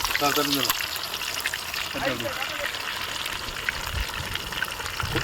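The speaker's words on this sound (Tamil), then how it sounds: "அப்படியே சிக்கனை நல்லா எண்ணெயில ஃப்ரை பண்ணிடுறோம்" Chicken pieces frying in hot oil for chicken 65, cooked outdoors by a village cooking channel: a steady, dense crackling sizzle throughout, fairly loud and close, with voices talking over it.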